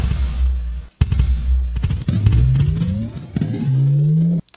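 Layered explosion effect built for an EDM beat: booming low hits with rising tonal sweeps, punctuated by short silent gaps, loud and close with no voices.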